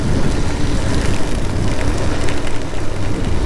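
Steady broadband hiss of rain falling and spattering on surfaces in the Philippines, constant and fairly loud throughout with no voices.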